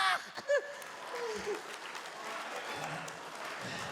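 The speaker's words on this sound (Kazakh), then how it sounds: "Шапалақ!" An audience bursts into applause at a wedding toy show, a brief burst of clapping that follows a loud vocal outburst at the start and then settles into a steady, moderately quiet patter.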